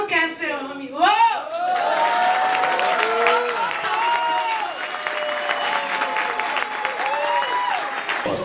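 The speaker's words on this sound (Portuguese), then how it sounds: "Uma salva de palmas." An audience at a poetry gathering breaks into sustained applause, loud and dense clapping that runs throughout, while voices cheer and call out over it.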